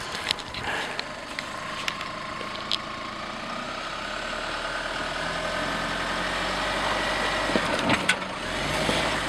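A 4x4 vehicle engine drones steadily while driving slowly along an off-road nature reserve trail with traction control on, a low continuous rumble with a few knocks and clunks from the terrain.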